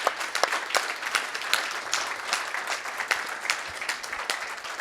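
Audience at a senior bowling tournament's stepladder finals applauds the finalists, steady close clapping with sharp individual claps standing out, continuous throughout.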